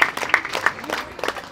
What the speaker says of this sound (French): bravo aux familles qui méritent aussi les applaudissements